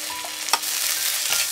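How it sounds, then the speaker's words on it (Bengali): Onions with ginger-garlic paste sizzle loudly in a pan, a bright continuous hiss close up, with a couple of quick spatula scrapes as the mixture is stirred. "একটু নাড়াচাড়া করে ভেজে নেব।"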